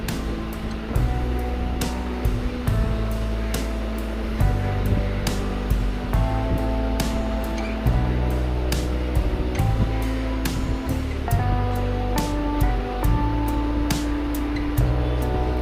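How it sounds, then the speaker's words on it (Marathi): Chakli made from rice flour and besan frying in hot oil, giving a steady, dense bubbling sizzle with frequent crackles and pops that continues throughout, with no talking. "तेलामध्ये आपण टाकलेल्या एक एक अशा सोडायच्या चांगल्या खरपूस भाजून घ्यायच्या"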